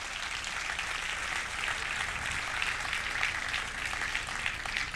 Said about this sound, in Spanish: si yo me merezco un aplauso